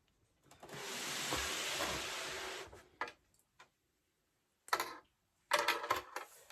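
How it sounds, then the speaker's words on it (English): A sewing machine stitching fabric scraps for a ring pin cushion: one steady whirring run of about two seconds, then short stop-start bursts of stitching and clicks separated by silence. "I'm going to sew all the way around and then turned inside out"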